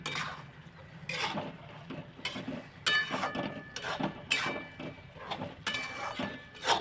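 Mushrooms and peas sautéed in masala in a pan, a spoon or spatula scraping and clinking against the metal in irregular strokes over a soft sizzle, fairly quiet and close.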